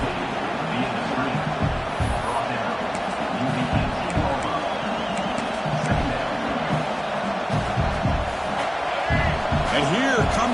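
Stadium crowd at an American football game roars continuously, a dense wash of cheering and hubbub with a commentator's voice running over it throughout.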